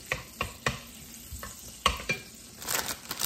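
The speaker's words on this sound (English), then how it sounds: "I'm gonna saute them a little bit," Small amount of onions sauteing in a pan for dinner with green beans, a soft low sizzle punctuated by repeated utensil scrapes and stirring taps, fairly quiet and close.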